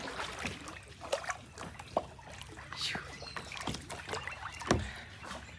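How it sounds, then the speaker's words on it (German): Kayak paddle strokes on a shallow lagoon at Bacalar, Mexico, with irregular splashes and drips of water at close range, alone without talk and with a faint bird in the background. "Kajak fahren."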